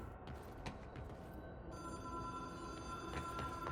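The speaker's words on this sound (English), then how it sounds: "Yeah, I hear the phone again." An old-style telephone bell rings in the video game Control, faint and distant, with a sustained tonal ring entering partway through over a low ambient hum.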